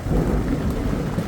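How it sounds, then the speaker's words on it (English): Thunder rolls through a thunderstorm as a loud, continuous low rumble, heard from inside a Panda Medium tent with rain falling around it. "You can hear that thunder out there right now."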